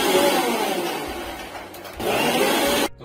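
A kitchen mixer grinder blends a sattu drink with a loud, steady whirring roar that dips briefly in the middle, then surges again before cutting off abruptly near the end.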